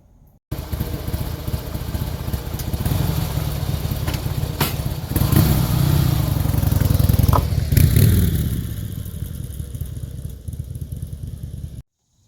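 A 2005 Harley-Davidson Fat Boy engine runs close by with a steady rumbling idle, swelling briefly about halfway through before settling and cutting off, with no voices.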